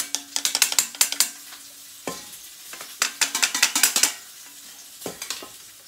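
Beef meatballs cooking in a frying pan with onion, a soft sizzle beneath repeated bursts of scraping and clinking as they are stirred with a utensil, close and fairly quiet, with no talking.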